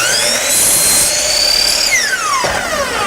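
A power saw cutting wood for a door frame: a loud, steady high whine with the pitch sliding down as the blade bites into the wood, running the whole time without any talking.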